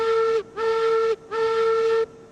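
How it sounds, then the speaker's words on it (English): A steam locomotive whistle in the railroad game Railroads Online sounds three loud, steady tonal blasts, each held for about half a second, with short gaps between them. "Check out the whistle."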